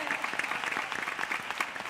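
Audience applause at a Christmas zambomba flamenco concert, a dense, steady clapping that runs through the whole short stretch without a break.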